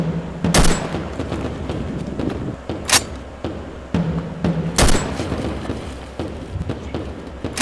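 Gunfire sound effect in a cartoon history sketch about the First World War: several sharp, loud broadband shots spaced irregularly over a steady noisy background, with low hums between.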